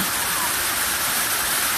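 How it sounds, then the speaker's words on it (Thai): Rain beginning to fall at Erawan waterfall in Kanchanaburi, Thailand, makes a steady, dense hiss of droplets mixed with rushing water, continuous and even throughout without any clear voices. "อันนี้คือฝนกำลังเริ่มตกค่ะ"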